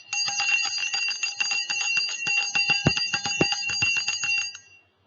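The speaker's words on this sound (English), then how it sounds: "First, let me ring this bell." A small metal bell rung repeatedly in quick, ringing strikes, bright and close, sustaining together before fading out at the end.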